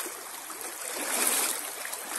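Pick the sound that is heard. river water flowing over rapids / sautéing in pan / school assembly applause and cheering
river water flowing over rapids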